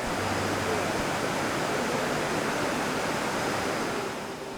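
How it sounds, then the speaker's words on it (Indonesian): Steady, dense roar of a 27-tiered waterfall pouring white, rushing river water, a constant wash of noise with no pauses or other sounds. "Air terjun ini memiliki 27 tingkat dengan aliran sungai yang putih dan deras."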